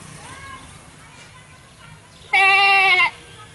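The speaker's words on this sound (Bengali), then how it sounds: "ছাগলটা এখন কি বললো?" A goat lets out a single loud, wavering bleat lasting under a second, preceded by quieter talk and faint background noise.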